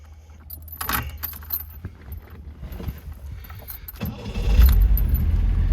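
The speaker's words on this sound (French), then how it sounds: "je vais vous démarrer la voiture" Keys jangle close by, then a 1980 MGB Roadster's engine cranks and catches, settling into a low, steady idle that grows louder toward the end.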